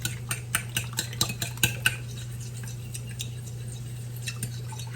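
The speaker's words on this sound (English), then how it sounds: "I'm gonna mix this together before I add my cinnamon" Eggs and milk whisked together in a bowl for French toast, a utensil clicking and tapping against the sides in quick irregular strokes, close and moderately loud over a steady low kitchen hum.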